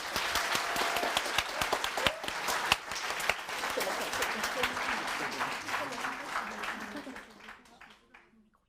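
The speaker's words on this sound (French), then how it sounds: "Un tonnerre d'applaudissements pour les accueillir." A thunderous round of audience applause to welcome guests on a French science show, dense clapping with a few sharp claps standing out, loud at first and then fading away toward the end as voices come through.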